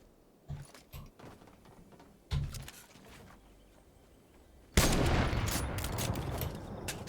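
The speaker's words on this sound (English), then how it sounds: "Did you shoot at him?" Video game gunfire: a couple of short bursts of shots, then a loud sustained volley of rapid fire that continues to the end.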